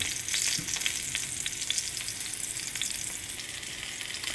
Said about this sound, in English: you also want to see the base of the fish that's in the oil start to turn brown a little bit